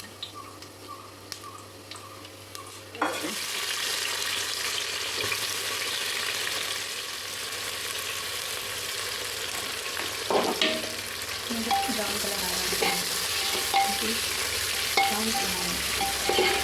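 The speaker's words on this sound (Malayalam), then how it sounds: "ഇനി ഒരുമാതിരി ഇത് ഒരു ബ്രൗൺ കളർ ആകുന്ന വരെ നല്ലതായിട്ട് വഴറ്റി കൊടുക്കുക" Whole spices such as cinnamon, cloves, cardamom, pepper and fennel sauté in a pan for Bangalore biryani, breaking into a loud sizzle after a few quiet seconds, with occasional scraping stirs under the steady frying.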